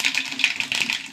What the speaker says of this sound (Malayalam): കുറച്ച് വെളിച്ചെണ്ണ ഒഴിച്ച് കൊടുക്കുക. കുറച്ച് കടുകിട്ട് കൊടുക്കുക.